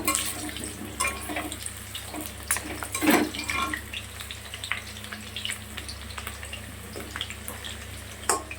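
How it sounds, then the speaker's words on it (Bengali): Potatoes frying in oil in a wok, a steady hiss and sizzle with a few clinks and scrapes of stirring, close and continuous with no talk. "এদিকে কড়াই আলু কিন্তু ভাজা হয়ে গেছে"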